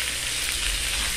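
Chicken frying in a pan with a little oil and drops of water added, a steady close sizzle and crackle without pause.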